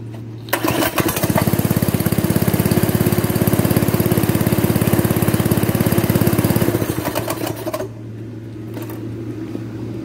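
A Predator 212 small gasoline engine with a freshly cleaned carburetor and air filter starts after a brief crank, then runs at a loud, steady, even drone for several seconds before it drops away and cuts to quiet.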